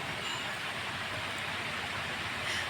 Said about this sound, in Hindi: इसको पनीर को हम हल्का सा गोल्डन फ्राई कर लेंगे